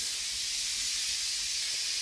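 Spray polyurethane foam insulation applied to a roof ceiling gives a steady, continuous high hiss from the spray gun, close and even with no pauses.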